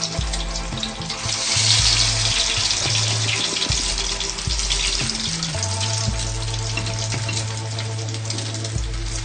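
Chicken nuggets sizzle and bubble in hot oil in a pan, a steady loud frying hiss with a low humming tone underneath throughout.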